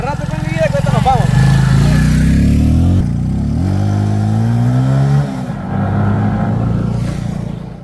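A motorcycle engine revs and pulls away, its pitch rising through the gears, with people talking over the engine noise.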